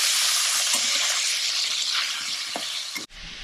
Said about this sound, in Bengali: 1 টেবিল স্পুন হলুদ দিচ্ছি, দিয়ে এটা ভালোভাবে ভেজে নেব।